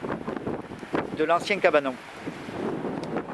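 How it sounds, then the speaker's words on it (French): Strong wind gusts buffet the microphone outdoors at a building site, loud, rumbling and uneven, partly covering someone speaking in French. "il y a beaucoup de vent aujourd'hui, je suis désolé"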